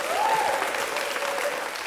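Studio audience applause on a French television talk show, a steady wash of many hands clapping that holds evenly for under two seconds, with faint tonal sounds drifting over it.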